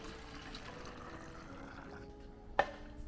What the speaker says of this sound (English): We're just going to go ahead and grab 2 cups of water and pour them into our bottle.